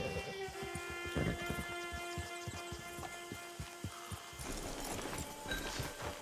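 Horse hooves clip-clopping at a steady walking rhythm in the Red Dead Online video game, moderately close and even, over a constant background hum with faint ambient game sound.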